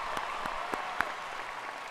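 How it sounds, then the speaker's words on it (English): Applause from the audience at a 2021 high school graduation ceremony, a sustained even patter of many hands clapping with a few sharper individual claps standing out, no speech. "Please join me in a round of applause in recognition of their hard work and dedication."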